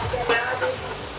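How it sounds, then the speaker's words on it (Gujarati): Rotli patra, rolled flatbread pinwheels, frying in oil on a low gas flame in a home kitchen. A soft, continuous sizzle runs throughout, with a brief scrape of stirring near the start and no speech. "હા, ધીમી ફ્લેમ ઉપર તળવાના છે એને આપણે."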